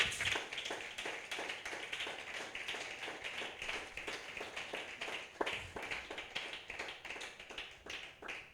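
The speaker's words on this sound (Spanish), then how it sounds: "Denle un aplauso al Señor." A church congregation applauds, a faint, steady patter of many hands clapping at a distance, continuous without a break.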